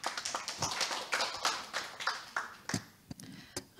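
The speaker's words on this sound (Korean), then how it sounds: "큰 박수로 맞이해 주시면 감사하겠습니다." Scattered clapping from a small audience at a Korean quality-of-life forum session, greeting a presenter with distinct individual claps that thin out and become sparse toward the end.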